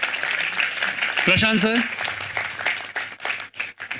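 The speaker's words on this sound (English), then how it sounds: "Let's give a round of applause for Kiran sir." An audience applauds dignitaries coming onto a stage at a talkathon event, a steady wash of clapping under a short spoken phrase, then thinning out toward the end.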